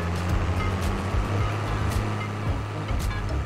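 Tractor engine from Farming Simulator 22, a large 100-plus horsepower machine, chugging with a steady low rumble and periodic puffs, continuous and fairly close.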